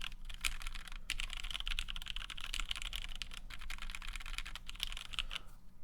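Steady typing on a Kei R2 mechanical keyboard fitted with flexible O-rings, producing rapid, soft, muted clacks in a continuous rhythm with brief pauses, close and fairly quiet, no voices.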